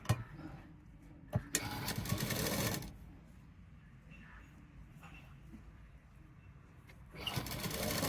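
A sewing machine stitches a blouse neckline in two loud whirring bursts separated by a quieter stretch with soft handling noises, and sharp clicks mark the starts and stops.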